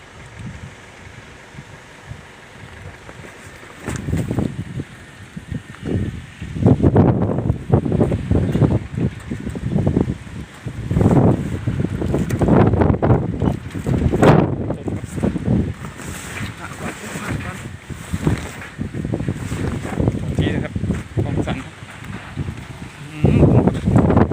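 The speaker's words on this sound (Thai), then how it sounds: "ลมนี่โอ้โหดูครับ" Strong storm wind roars and buffets the microphone outdoors in rural Thailand, loud and continuous in gusts, while someone talks over it.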